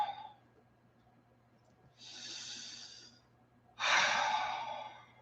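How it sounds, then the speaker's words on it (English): Two deep breaths taken during a guided meditation, each a soft, airy rush of air lasting about a second, the second louder and closer than the first, with near silence between them. "take a few deep breaths"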